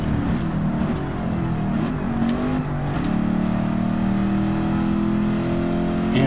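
A Ford Mustang Mach 1 with a 5-speed gearbox in a Gran Turismo driving game, its engine revving up and shifting through gears, loud and steady, with rising and falling tones and no talk.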